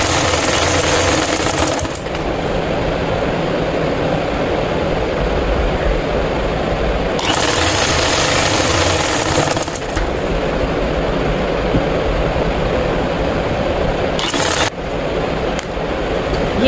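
A sewing machine stitches elastic into trousers, running loud and close in a long steady whir broken by brief pauses and short bursts of bright mechanical clatter.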